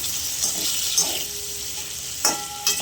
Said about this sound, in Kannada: ಸ್ವಲ್ಪ ಇದರ ಫ್ರೈ ಮಾಡಿಕೊಂಡು ಕರ್ಕೊಂಬಿಡೋಣ